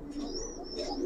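Giribaz pigeon cooing close by, a steady soft low coo running through the whole short stretch with a faint higher whistle above, no talk.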